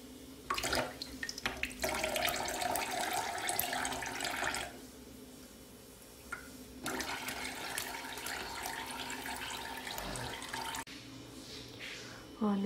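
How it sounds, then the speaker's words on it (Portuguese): Water sprayed and splashed onto a wedding bouquet to add shine, a steady hissing rush that stops briefly midway and then resumes, with a faint voice near the end. "E eu vou jogar água e espirrar brilho."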